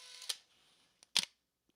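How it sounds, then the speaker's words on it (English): A camera's electronic shutter, opened and closed with the door, with no film loaded: a short sharp click, a tiny tick, then a louder double click, close and alone in a quiet room. "you can hear what the shutter sounds like when I open and close the door"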